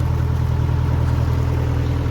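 A boat engine idles with its propeller a little bound up, giving a steady, loud low rumble that holds evenly throughout without any voices.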